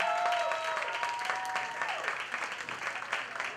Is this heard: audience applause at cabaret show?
yes